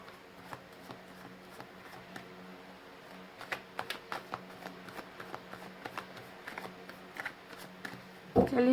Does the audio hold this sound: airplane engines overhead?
no